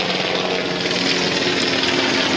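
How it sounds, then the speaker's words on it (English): A helicopter flies overhead during a Thursday sailboat race, its engine and rotor making a loud, steady, broadband roar that fills the whole stretch without letup. "Helicopter overhead."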